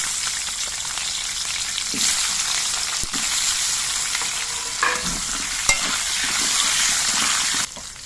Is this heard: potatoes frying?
yes